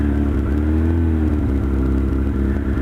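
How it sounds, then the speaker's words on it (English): An old carbureted motorcycle engine idles close by while warming up, a steady low rumble with a slight rising and falling pitch, running on its own without voices. "let the engine warm up. It's important to do that."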